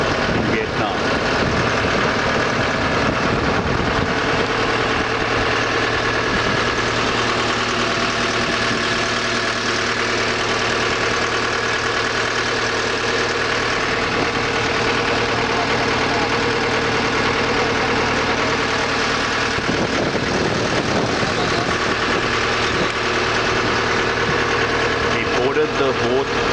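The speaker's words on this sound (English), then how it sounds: "The boat at Mekong jetty, and now we are on a ride to visit an island nearby." A boat engine idles on the Mekong River in Vietnam's Mekong Delta, a constant loud mechanical drone with steady vibration that holds for the whole stretch and dips briefly near the end.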